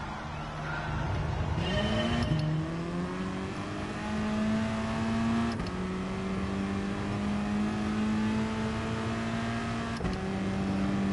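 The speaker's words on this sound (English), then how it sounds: "He's warming his tyres up." Race car engines in Gran Turismo Sport rev steadily as drivers weave to warm their tyres, a loud sustained whine that rises and dips with gear shifts and throttle changes.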